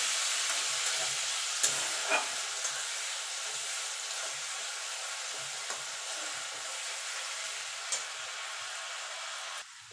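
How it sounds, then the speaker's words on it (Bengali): Ginger and green chili paste is stirred in a hot pan, giving a steady soft sizzle broken by a few light scrapes of the spoon, close and continuous with no talking. "দিয়ে একটুখানি নাড়াচাড়া করে নেবো যতক্ষণ আদার কাঁচা গন্ধটা চলে না যাচ্ছে"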